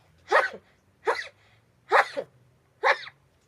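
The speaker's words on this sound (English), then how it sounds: "Yes, that's a real sneeze." Four sharp sneezes in a row, evenly spaced about a second apart, close and loud against a quiet background.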